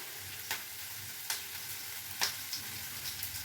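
Curry leaves and coriander sizzle in a pan for a home curry, a soft steady frying hiss broken by a few sharp crackles and spatters, quiet and close.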